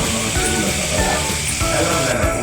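Fish frying in hot oil for escabeche, a steady close sizzle and crackle running the whole short stretch without talk.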